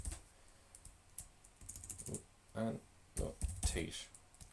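Code being typed on a computer keyboard for a Raspberry Pi camera project, heard as irregular bursts of close key clicks with brief pauses, quiet overall with a faint voice in the background.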